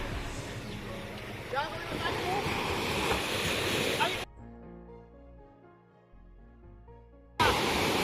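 Surf rolling onto a seashore at a fishing community, with steady wind noise and voices talking over it; the wash breaks off abruptly midway, replaced by quieter tonal sound, then returns loud at the end.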